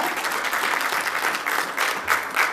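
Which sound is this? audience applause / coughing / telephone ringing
audience applause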